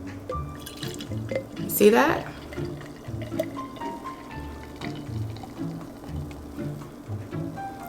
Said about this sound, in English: We're gonna pour it in our glass.